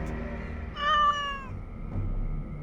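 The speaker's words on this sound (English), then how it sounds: "He's a friend. And he's also a cat." A cat companion in the fantasy role-playing game Dragon Age: Origins - Awakening gives a single clear, mid-length meow over quiet game background ambience, with no voices.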